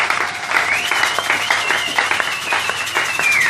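A church congregation claps hands together in acclaim of the Lord, a steady dense patter of many hands with a sustained high vocal tone threading through, close and fairly loud throughout.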